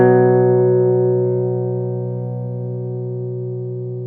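A guitar played with a Boss CS-3 compression sustainer pedal switched off rings out as a single sustained chord that fades steadily over a few seconds, the upper harmonics dying away first.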